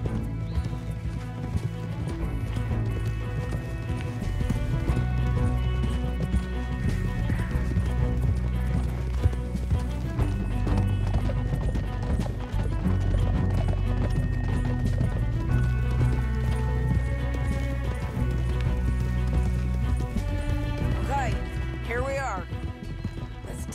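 Horses galloping in Red Dead Redemption 2, a continuous rhythmic clatter of hooves with an occasional whinny, laid under a steady musical score and in-game dialogue throughout.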